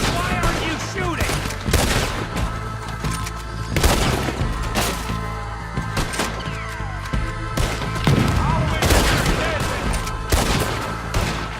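Dense gunfire in a Wild West shootout in Red Dead Redemption 2, with rapid overlapping shots, booms and thuds filling the whole stretch, loud and continuous, with voices shouting in between.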